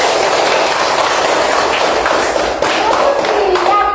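Primary schoolchildren in a classroom clap their hands together in a loud, dense burst of rapid overlapping claps that lasts the whole stretch, close and bright.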